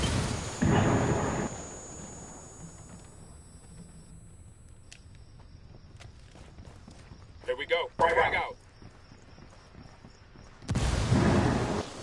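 A grenade blast in a video game: two loud, booming bursts with a sharp crackling burst between them, separated by quieter gameplay noise.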